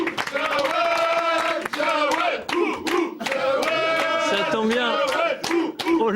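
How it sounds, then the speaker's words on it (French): A crowd at a French welterweight boxing championship title celebration cheers and chants loudly, with clapping and voices running throughout. "Allez, on applaudit bien fort Jawad Shiger pour ce titre de champion de Fr"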